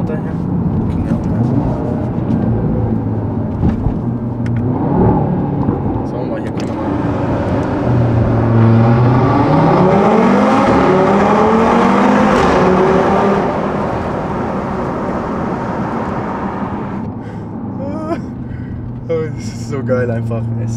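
A 500 hp ABT Audi TT RS-R engine roars from inside the car while driving, rising and falling in pitch through revs and downshifts, with someone talking over the engine noise throughout.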